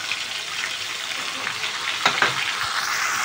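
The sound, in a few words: stirring spice paste frying in a pan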